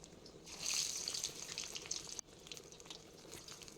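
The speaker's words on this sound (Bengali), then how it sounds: "এখন আমি বেগুনিগুলো ভেজে নেব।" Eggplant fritters (beguni) frying in mustard oil in a kadai, a steady close sizzle that swells loud early on, cuts off briefly, then carries on softer to the end, with no voices.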